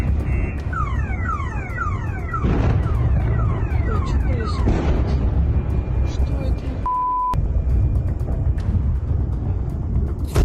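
An air raid siren in Taganrog, Russia, wails in repeated falling electronic sweeps over a steady rumble of background noise, with people talking through it.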